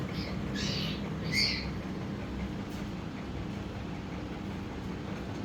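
Pet birds kept in a room at night give a few short, bright chirps near the start, then fall quiet over a steady low room hum.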